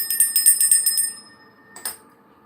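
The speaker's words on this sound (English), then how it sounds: "Oh, I could ring the start bell." A small start bell rings in a quick series of bright metallic strikes, then one more strike after a brief pause, close by and clear, with no talk.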